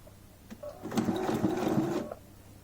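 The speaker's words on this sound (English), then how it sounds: "I will do a back stitch just to reinforce it because there's a seam underneath it." A sewing machine back stitches across a seam in a retro dress, a steady close mechanical whir that runs for about a second and a half between short starts and stops, with no talk.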